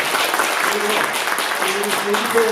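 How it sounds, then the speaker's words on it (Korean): A church congregation claps steadily throughout, dense and continuous, with a few faint voices mixed in underneath. "우리 김성인 부교회장 더 열심히 할 수 있도록 큰경계의 박수를 부탁드립니다"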